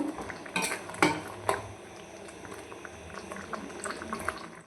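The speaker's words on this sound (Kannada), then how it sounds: "ಇದಿವಾಗ ಚೆನ್ನಾಗಿ ಬೇಯಬೇಕು, ಚೆನ್ನಾಗಿ ಕುದಿಬೇಕು." Carrot halwa cooking in milk, boiling in a pot with a soft continuous bubbling, while a few sharp metal clinks of a spoon against the pan stand out early on.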